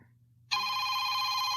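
An incoming-call telephone ring starts abruptly after a quiet half second and holds as a loud, steady electronic bell tone to the end, with no voices.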